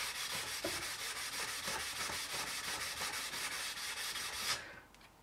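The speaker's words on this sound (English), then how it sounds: "Now we'll use the 4-aught to give it a little bit more of a shine." Fine 0000 steel wool rubs back and forth over an aluminum rocker molding on a 1966 Mustang, a steady rhythmic scratchy hiss of short strokes that stops abruptly near the end.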